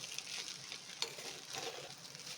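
Shavige uppittu, a vermicelli breakfast dish, being stirred and mixed in a pan on a stove, with a soft continuous scraping and light sizzle and a few sharper clinks of the spoon, close and steady with no talk.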